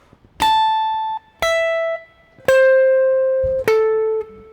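Four slow, separate gypsy jazz guitar triplet downstrokes, each ringing out bright and sustained before the next, played alone and close.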